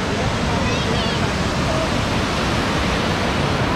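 The Beas River in Manali makes a continuous, loud broadband rush of flowing water that stays steady and close throughout. A faint voice sits underneath.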